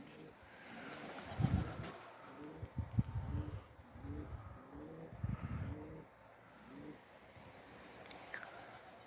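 Pigeons give soft, low cooing calls in several separate bursts, rising and fading with quieter gaps between them.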